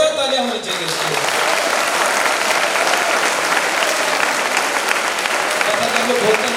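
Sustained, loud audience clapping fills a college event hall, a thick steady roar of many hands; a voice is briefly heard at the start before the applause takes over.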